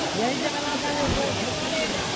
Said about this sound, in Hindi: मैं आप लोग को फाइनली दिखा रहा हूँ झरने का नज़ारा